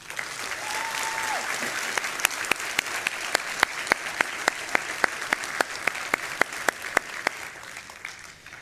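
Sustained audience applause at a sheriff's office awards ceremony, a dense steady wash of clapping with a few sharper individual claps standing out, and a brief whistle early on.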